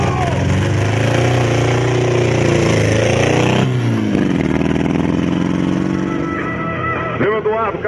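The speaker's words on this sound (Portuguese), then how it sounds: "Eduardo, esse motor tá falhando?" A misfiring engine on a drift car roars loudly and continuously with a rough, stuttering rumble, then drops off abruptly partway through before the revving picks back up, while voices speak nearby.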